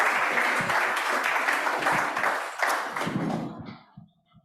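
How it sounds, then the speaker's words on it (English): Conference audience applauding at a Bay Area Council panel on air travel emissions, dense clapping that holds steady, then thins out and fades to near silence at the end. "Round of applause."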